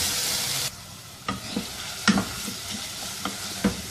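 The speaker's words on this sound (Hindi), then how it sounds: "अब इसमें शामिल कर देने हैं 3 खाने के चम्मच घी के और अब इनको 4-5 मिनट अच्छी तरह से भून लेंगे।" Grated carrots frying in ghee for gajar ka halwa, a continuous close sizzle broken by repeated spoon-stirring scrapes and knocks against the pan, no talking.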